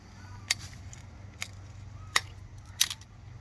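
A cracked underground sprinkler pipe being cut, four crisp, separate snaps of the cutter spaced about a second apart over a quiet outdoor background.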